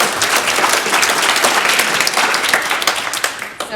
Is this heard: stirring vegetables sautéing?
no